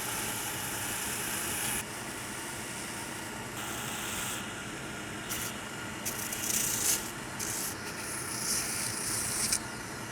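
Leather boot sole edges being beveled on a sanding machine, a continuous abrasive rubbing hiss over a steady motor hum, with brief changes in pressure and pitch as the sole is worked.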